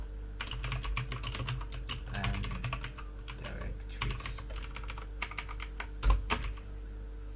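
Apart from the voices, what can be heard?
typing on computer keyboard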